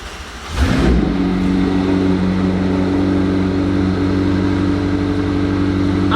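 A McLaren 765LT engine fires up with a sharp, loud cranking burst, then settles into a steady, deep idle that holds evenly for several seconds.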